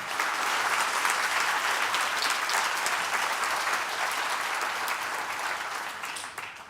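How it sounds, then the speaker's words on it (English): An audience at a keynote talk gives a sustained round of applause, a dense, even wash of many hands clapping that holds steady for several seconds and tapers slightly at the close. "let's give a round of applause to those 3 guys."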